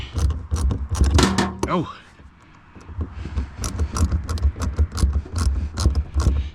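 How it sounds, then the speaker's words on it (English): Small ratchet tightening a bolt on a pressure washing trailer, rapid repeated clicking strokes in rhythmic bursts, close and clear, with a brief spoken exclamation early on. "now I'm going to tighten that bolt. My little ratchet"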